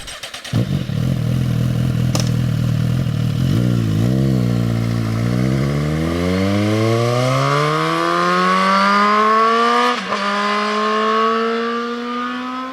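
A Suzuki GSX-S1000 GT motorcycle engine revs up loud and close, its pitch climbing steadily through a long acceleration with a brief gear-change dip near the end, no talking over it.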